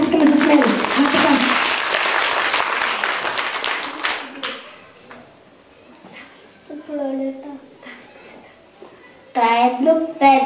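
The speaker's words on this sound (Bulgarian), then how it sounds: "Хайде още веднъж да я ръкопляскаме за смелост." An audience at a children's concert breaks into loud, dense applause that fades after a few seconds, then a presenter speaks over quieter room noise, with a brief burst of voices near the end.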